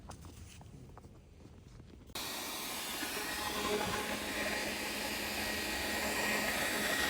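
A steady, loud rushing hiss of air switches on abruptly and runs continuously, with no voices over it.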